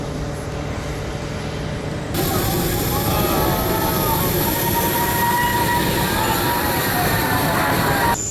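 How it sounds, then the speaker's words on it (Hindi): UAE Air Force helicopters and aircraft pass over an air show, a loud continuous roar of engines and rotors that swells partway through, with someone talking over it. "ये आप हेलीकॉप्टर्स देख रहे हैं, ये मुत्तहिदा अरब अमारात एयरफोर्स के हेलीकॉप्टर्स हैं।"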